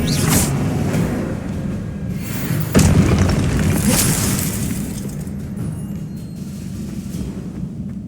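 An Expelliarmus spell cast in the Hogwarts Legacy video game produces a loud, booming magical blast with crackling, shattering bursts. A second heavy impact lands midway, then the sound fades into a rumbling tail, with no voices.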